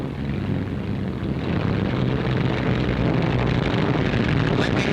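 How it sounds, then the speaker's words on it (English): A P-47 Thunderbolt fighter plane lands on a shot-up tire as a loud, steady propeller engine roar with heavy wind noise, holding at near-constant level throughout. "This homing thunderbolt tripped up on a shot-up tire, but at last, he's landed."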